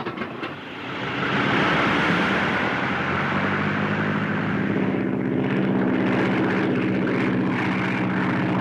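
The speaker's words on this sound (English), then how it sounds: "Here comes two planes." Two propeller airplanes fly overhead in a 1934 film soundtrack, their engine drone swelling in quickly and holding loud and steady with a throbbing buzz. No voices are heard.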